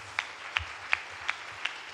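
Congregation in a church clapping in a slow, steady rhythm, five sharp claps spaced about a third of a second apart, fairly faint, with no talking.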